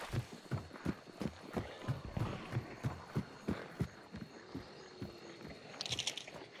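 A horse's hooves clip-clop in a steady rhythmic pattern nearby in the game Hunt: Showdown, fairly faint and fading over several seconds, with a brief metallic clatter near the end.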